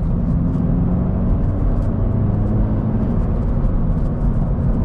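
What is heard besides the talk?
truck with aftermarket exhaust during normal driving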